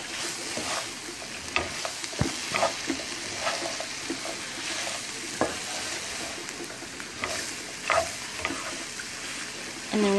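Potatoes and onions fry in a pan for southern country fried potatoes while a utensil stirs through them, giving a steady sizzle over irregular scrapes and clanks, close and moderately loud, with no talk.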